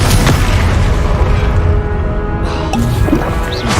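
A Confringo fire-blast spell from Hogwarts Legacy lands as a loud, sustained booming explosion with a crashing roar that rumbles for several seconds, up close and filling the whole scene.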